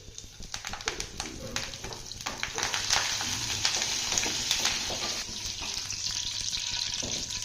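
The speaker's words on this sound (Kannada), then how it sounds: "ಒಗ್ಗರಣೆಗೆ ಫಸ್ಟ್ ಕರಿಬೇವು ಹಾಕೋತಿದ್ದೀನಿ." Steady crackling sizzle of curry leaves frying in hot oil, close and continuous, with a few scraping stirs and brief pops.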